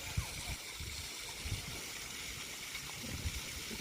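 A waterfall pours into a crocodile and gharial enclosure at a Rajkot park, a steady close hiss of falling water with faint broken speech and crowd sounds over it.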